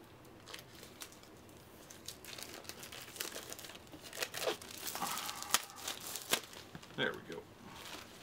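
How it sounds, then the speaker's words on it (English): Cellophane shrink wrap is pulled and crinkled off a stack of board game tiles, close up, with irregular crackling bursts that grow louder and busier toward the end. "Give me 1 second to get cellophane off here."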